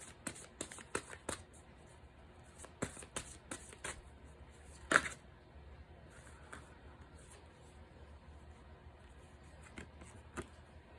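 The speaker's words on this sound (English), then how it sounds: "These are bigger cards, so they don't shuffle as easily" Large oversized cards are shuffled in quick, dry riffling bursts, uneven and a bit halting, with quiet pauses between the flurries.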